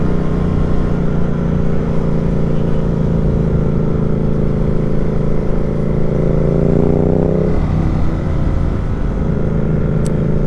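A KTM 390 Duke motorcycle engine drones loudly and steadily up close, its revs shifting and falling away partway through, with no voices.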